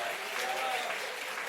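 Church congregation applauding during a Spanish-language service, a steady broadband wash of clapping that holds evenly throughout, with a voice faintly under it.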